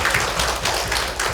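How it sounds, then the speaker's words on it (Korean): A church congregation at a Sunday service breaks into a brief burst of applause, dense, close and evenly sustained. "감사의 박수 한번 올려주시죠."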